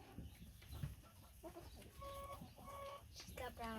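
Homestead chickens clucking nearby in a short run of repeated calls, with faint voices and farmyard noise in the background.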